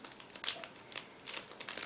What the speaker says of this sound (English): which is packed into the separate plastic bag. Again, I need a bit of time to open it.